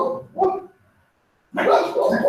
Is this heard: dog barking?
yes